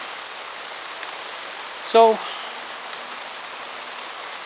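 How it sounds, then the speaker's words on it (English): Steady drizzling rain from the southwestern Canadian wet coast hisses evenly and continuously, and someone speaks one brief word partway through. "southwestern wet coast Canadian rains that are just steady drizzle"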